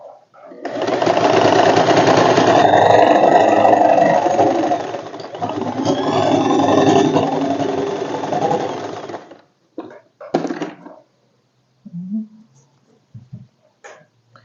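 A sewing machine running a seam on an elasticated fitted bed sheet, loud and close, in a steady whirring run of about nine seconds, followed by brief short stitching bursts and small handling noises.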